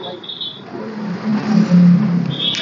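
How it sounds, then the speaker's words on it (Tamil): A 2015 Hero Pleasure scooter engine idles and rises slightly in pitch, a steady close hum with a voice speaking over part of it. "வண்டி வந்துங்க இன்ஜின் செல்ஃப் ஸ்டார்ட் சூப்பராக இருக்குங்க"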